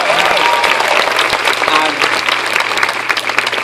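Dense, loud applause from a cinema audience at a film screening introduced by the filmmakers, with cheers and voices mixed into the steady clapping throughout.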